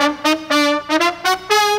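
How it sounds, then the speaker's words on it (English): Sampled mariachi horns play brassy blasts in short bursts, a few quick stabs then longer held notes, loud and bright with no talking. "and even some mariachi horns"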